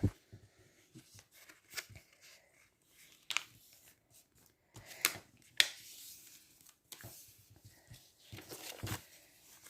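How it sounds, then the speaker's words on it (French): A paper square is folded in half for origami, giving soft close crinkles and scattered sharp creasing rustles with quiet gaps between them. "Plier le carré en 2 en amenant le coin du haut sur le coin du bas."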